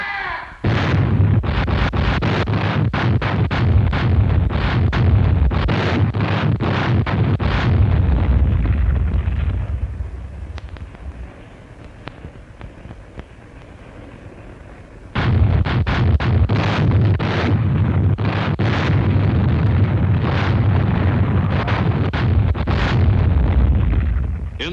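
Battleship guns firing in the WWII Pacific at the Battle of Surigao Strait, a loud, relentless barrage of booming blasts in rapid succession that fades to a quieter rumble midway before the heavy firing resumes.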